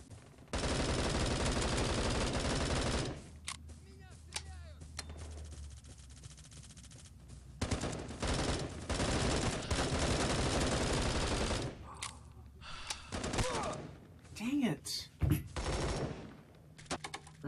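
Rapid automatic gunfire from the mobile shooter game Bullet Force, loud, dense bursts and sustained sprays that stop and restart, with a few sharper isolated shots near the end.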